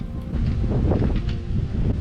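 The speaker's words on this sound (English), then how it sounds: "it's too windy to kind of do what we wanted to do before" Strong wind buffets the microphone with a loud, steady low roar and gusty rumble throughout, no one speaking.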